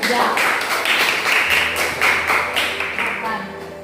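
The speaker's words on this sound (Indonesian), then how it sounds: "beri tepuk tangan untuk kelompok 3" A small group in a classroom claps in a rhythmic, fairly close round of applause that continues for a few seconds, with some voices under it.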